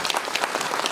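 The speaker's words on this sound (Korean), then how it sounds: "박수 한번 쳐주시겠습니다" An audience at an apartment remodeling briefing claps briefly, a short burst of dense, moderately loud applause.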